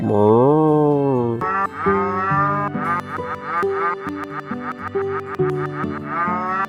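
Cartoonish cow moos from the video game Trails in the Sky remake, several in quick succession, layered over a bright, bouncy musical backing.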